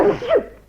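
One short, loud, close sneeze from an actor in a radio stage drama: a breathy burst that slides into a voiced rising-and-falling cry, over in under a second.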